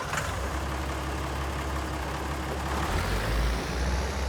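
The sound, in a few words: Deutz tractor engine starting in Farming Simulator 19 video game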